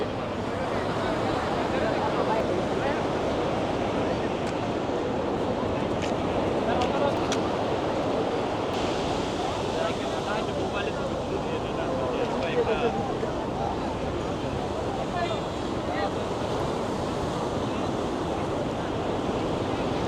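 Continuous roar of sea waves washing onto the beach at Cox's Bazar, Bangladesh, with wind rushing across the microphone throughout.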